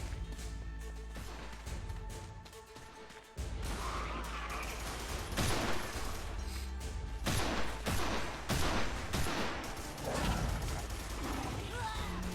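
Tranquilizer dart guns firing repeatedly in the dinosaur shooter game Primal Carnage, with dense rapid shots and impacts over a loud, busy game soundscape.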